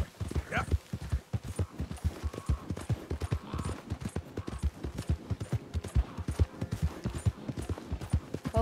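A horse gallops in Red Dead Redemption 2, its steady rhythmic hoofbeats thudding close and clear, with faint bits of background sound and a voice now and then.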